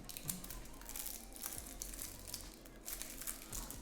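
Crinkly plastic and tape being pulled and crumpled in bursts on a taped Yu-Gi-Oh! card box, close up and steady for a few seconds, with no talking.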